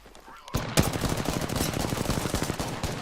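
Rapid automatic gunfire in the video game Apex Legends, a dense burst of shots continuing for about two and a half seconds after a brief quiet start, loud and close.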